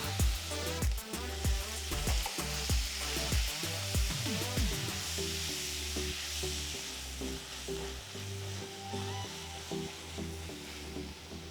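Four large chopped tomatoes dropped into hot oil with pounded ginger and garlic, sizzling loudly and steadily while a spoon clatters and stirs through the pan in bursts.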